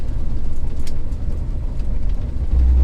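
A truck with a rebuilt Holley carburetor and bigger jets drives along, its engine a steady, loud low drone with road rumble from inside the cab.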